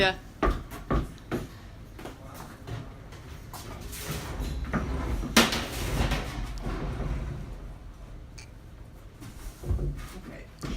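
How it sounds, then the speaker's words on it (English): A door is pushed shut with a few wooden knocks and clunks, then a firmer thud, amid rustling and light handling noise. "So I'm just gonna try to close the door."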